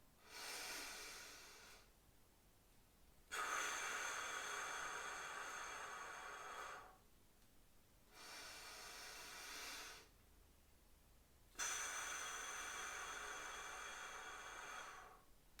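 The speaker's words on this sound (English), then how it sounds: "So that's pursed lips breathing." Pursed-lip breathing, a slow breathing exercise for COPD and anxiety: close, quiet breaths in through the nose alternate with longer, louder hissing breaths out through the mouth, about four full cycles with no talk.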